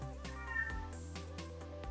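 A house cat meows in a drawn-out, wavering cry, then a second shorter one, close and clear over a steady background hum.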